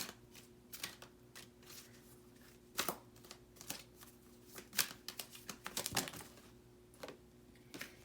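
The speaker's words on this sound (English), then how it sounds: "I'm going to draw from the Black Moon deck. Let's see what pops out for you all." Tarot cards from a Black Moon deck shuffled and drawn, soft close riffles and sharp snaps scattered irregularly over a faint steady hum, with no one speaking.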